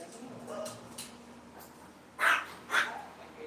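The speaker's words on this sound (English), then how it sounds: "And Gabe is going to bark." A dog barks twice indoors during a grooming livestream, two sharp, fairly close barks near the end after a stretch of quieter room noise and a faint voice.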